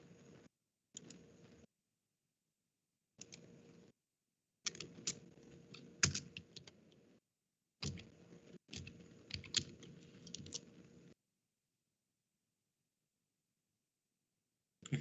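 Typing on a computer keyboard while working at a Linux or Windows command line, heard as close, quiet bursts of rapid key clicks separated by short pauses, with no talking.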